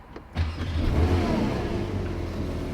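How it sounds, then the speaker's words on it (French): Porsche 911 GT3 (992) supercar engine starting up: a brief starter whir, then a loud, close burst of revs settling into a steady, rumbling idle, with no voices. "Je vais démarrer la voiture."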